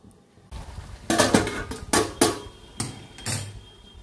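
A metal lid set onto a pan of cooking chicken curry, with a series of sharp clanks and scrapes coming close together as it settles, over a quiet kitchen background.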